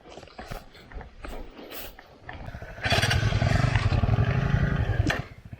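A motorcycle engine runs out in the Ugandan bush. After softer mechanical clatter, a steady, fairly loud engine drone holds for about two seconds, then drops away.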